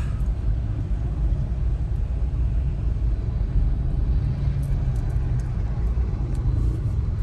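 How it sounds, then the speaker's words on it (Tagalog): Steady, dense road-traffic rumble, heavy in the low end and unbroken for the whole stretch, as if heard from inside a vehicle stuck in slow traffic; no voices. "Traffic pa rin."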